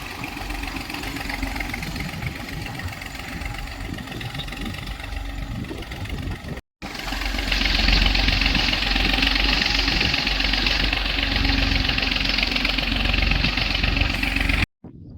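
A Massey tractor engine runs with a steady, loud, rough drone and knocking pulse, close by, briefly cutting out twice and then resuming, with no talking.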